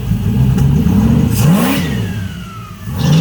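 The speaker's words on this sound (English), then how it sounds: "You could hear the turbo a little bit when I was in there." A custom turbocharged LS engine revs loudly and close, its pitch rising and falling in sweeping pulls over a steady rumble, with a faint whistle above.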